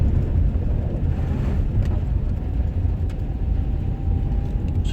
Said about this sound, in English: Spinning the wheels there.